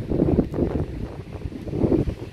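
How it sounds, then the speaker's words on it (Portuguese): Gusty wind at a beach buffets the microphone in low, rumbling bursts, loud and close, rising and falling throughout. "Tá ventando um pouquinho, não sei se vocês vão conseguir ouvir bem"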